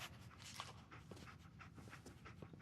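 Dogmeat, the canine companion in Fallout 4, pants in quick steady breaths close by, with faint soft footsteps and a light whimper mixed into the continuous panting.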